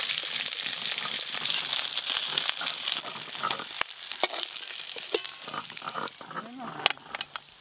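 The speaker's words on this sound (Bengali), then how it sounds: "এই মাছগুলো ভাজা হয়ে গেল" Small charapona fish frying in oil in a pan in a village kitchen, a steady close sizzle with scattered clinks and scrapes of a utensil, quieter toward the end.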